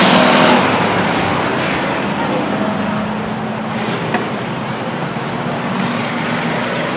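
Race cars roar around the Stockton 99 Speedway oval, a dense, steady wash of engine noise from several cars at middle distance with little change in level throughout.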